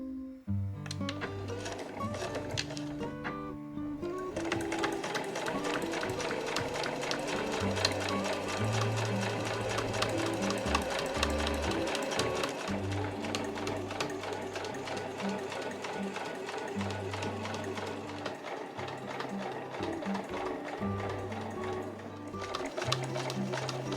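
A sewing machine stitching the side seams of a fur tote bag, running in long steady bursts of rapid needle chatter with brief pauses between runs, close and clear.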